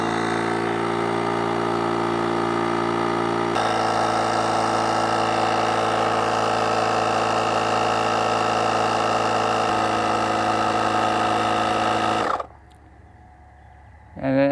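A ShockFlo rechargeable portable air compressor inflates an ATV tire with a loud, steady mechanical drone that runs unbroken, then cuts off abruptly near the end, leaving a quiet tail.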